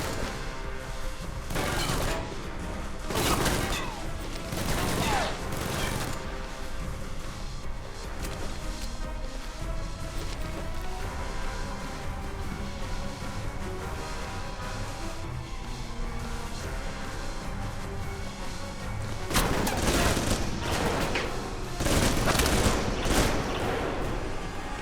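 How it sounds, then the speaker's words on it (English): Gunfire in the video game Alpha Protocol comes in several sharp, loud bursts over a constant layer of game background noise, with a dense cluster of shots near the end. "Who are you shooting at?"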